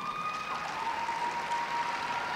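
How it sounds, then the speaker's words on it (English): Audience applause at the closing ceremony of a netball youth tournament: a steady, dense wash of clapping that holds throughout, with a faint whistle-like tone running underneath. "Yes, she deserves an applause."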